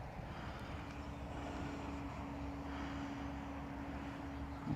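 A DJI Mini drone lifts off indoors inside a building, its steady whirring propeller drone holding loud and constant with a thin sustained tone running through it.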